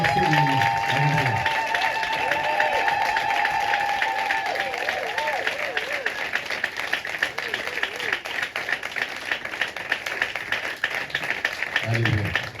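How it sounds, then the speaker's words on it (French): Church congregation clapping hands together in Sunday worship, a steady dense wash of claps sustained throughout under a sung or spoken voice, with a voice returning at the end. "Faisons retentir nos mains"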